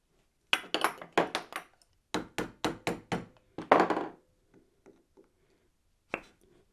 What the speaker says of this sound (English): I can pull that dowel in and out of there